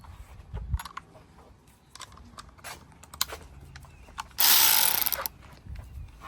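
Close-up ratchet work on the 10mm negative terminal nut of a 2021 Ford F150 battery: sparse clicks and small metallic taps, then a short burst of rapid ratcheting near the end.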